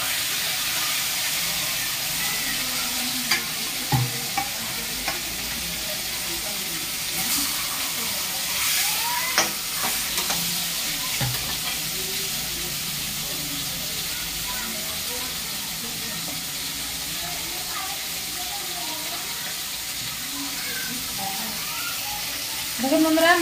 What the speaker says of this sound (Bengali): মাছটা দিয়ে দিয়েছি কড়াইতে, এবারে উল্টে পাল্টে এবার লাল লাল করে খুব ভেজে নেব